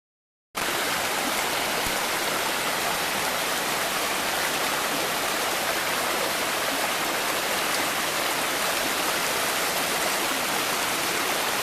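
The Conway River rushes past a campsite along a fire road in Shenandoah National Park, a constant broadband roar of flowing water, close and steady with no breaks or voices.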